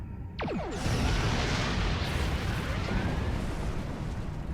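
Starship weapons fire in the Star Trek Online space game: a sharp descending energy blast launches, then a loud, sustained rumbling explosion fills the rest, with no voices.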